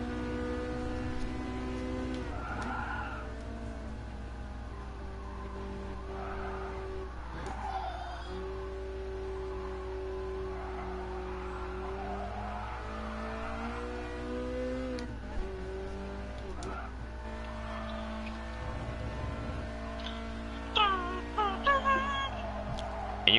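A Ferrari supercar in Gran Turismo Sport drives on with a steady engine drone and shifting harmonic pitch, rising briefly near the end, while someone talks over it throughout.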